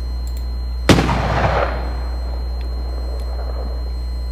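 A simulated firework explosion from the FWsim fireworks simulator: one sharp loud bang followed by a crackling, decaying tail lasting under a second, then quiet background hum.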